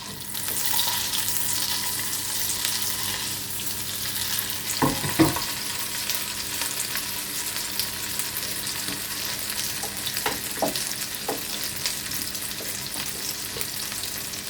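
Steady sizzle of blueberry pancakes frying in butter in a pan, a continuous hiss with a few brief clinks and scrapes along the way, close and alone without talk.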